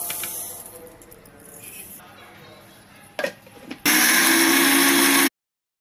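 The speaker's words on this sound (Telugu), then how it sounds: "వాటిని రెండింటిని కలిపి ఇప్పుడు మిక్స్ చేసుకుందాం." A mixer grinder blitzes roasted fenugreek and mustard seeds in a loud, steady motor roar lasting under two seconds, after quieter handling noises and some speech, then cuts off abruptly.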